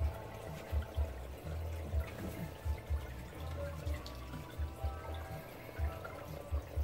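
Water runs steadily into a tank during a water change with a Python, a continuous pouring rush with periodic low thumps and gurgles recurring every second or so.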